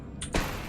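Depulso force spell cast in Hogwarts Legacy: a short whooshing burst followed by a dull thump, close and loud, standing alone without talk.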